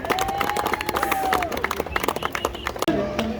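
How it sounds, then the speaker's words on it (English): At the Kenya Barista Championship, an audience claps and cheers for barista Dominic, a short burst of scattered, sharp claps mixed with crowd voices. "A big round of applause for Dominic"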